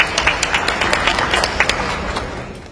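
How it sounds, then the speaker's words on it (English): Moderately loud clapping breaks out from an audience at a climate action and disaster prevention summit, brisk uneven claps from a modest crowd that thin out toward the end. "Applause for group 1."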